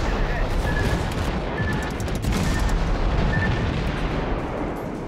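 Naval gunfire aimed at ships in World of Warships, a continuous roar of distant cannon booms and rumbling blasts with a few sharp tonal pings, while a voice talks over it.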